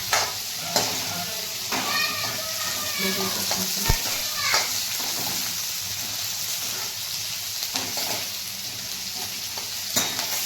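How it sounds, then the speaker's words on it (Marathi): Garlic and ginger sautéing in a pan for shev bhaji, a steady close sizzle with intermittent stirring scrapes and clicks of a utensil, continuing throughout without talk. "आता यामध्ये लसूण आले टाकून तेही व्यवस्थित परतवून घ्यायचं आहे."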